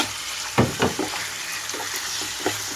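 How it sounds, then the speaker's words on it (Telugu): Chicken and onions fry over high flame with a steady hiss, broken by a few scraping stir strokes and soft clatters from the pan at close range. "హై ఫ్లేమ్లో ఉంచి ఒక్కసారిగా కలుపుకుంటున్నాను."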